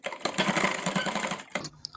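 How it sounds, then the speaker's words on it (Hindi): A sewing machine stitching a sleeveless strap blouse runs in a fast, buzzing, close-up whir for about a second and a half, then stops abruptly with a faint click. "अब इसको हम ऐसे सिल देंगे।"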